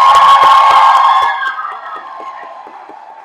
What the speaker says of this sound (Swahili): Tuwapigie makofi na kuwashangilia